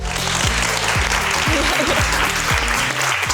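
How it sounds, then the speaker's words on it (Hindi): Studio audience applause greets a special guest on a talk show, a steady wash of clapping throughout with a low, stepping musical tune playing beneath it. "और तालियां"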